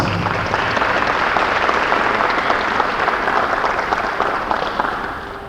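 A room of people applauds steadily at a tribal press conference on medical facilities after Principal Chief George Tiger is introduced; dense, loud clapping that fills the space evenly and tapers slightly at the end.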